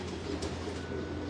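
Pigeons in a loft of costly birds give a steady, low, throaty cooing that runs continuously and fairly close, with no talking over it.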